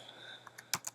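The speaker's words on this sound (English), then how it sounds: "and then you can type Jeff" A few quick keystrokes click on a computer keyboard, close to the listener, the last two sharper and louder than the first ones.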